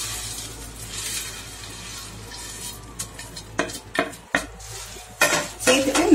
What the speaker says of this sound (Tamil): நல்லா mix பண்ணி விட்டுருங்க